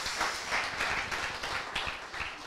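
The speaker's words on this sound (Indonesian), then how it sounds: "Beri tepuk tangan lagi" A church congregation claps together at an anniversary service, a steady dense patter of many hands sustained evenly throughout at moderate distance.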